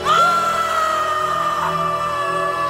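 An Amazon tribesman screams from a mountaintop in a film trailer, a loud sustained high cry held steadily for several seconds over a dense layer of dramatic music.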